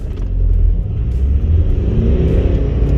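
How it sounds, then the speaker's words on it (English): A Honda Accord 2.2 D-tec diesel car pulls hard in first gear, its engine giving a loud, close, rising rumbling drone that holds steady throughout with no talking. "wait you see when I accelerate"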